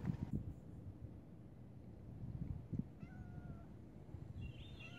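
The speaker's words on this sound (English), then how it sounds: "There's a lot of stray cats around here." A stray cat gives a few faint, thin meows outdoors over a breezy, rumbling background, fairly distant and quiet.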